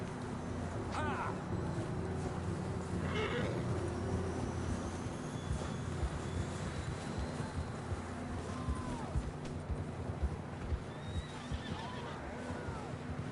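Horses whinny and neigh in Red Dead Redemption 2, two sharp calls early on rising over a steady bed of hoofbeats and game ambience that runs throughout.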